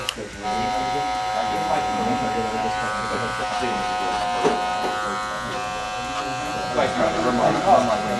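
An electric hair clipper buzzes steadily through a fade haircut on straight hair, a close, continuous drone that stays under a barber's talking almost throughout.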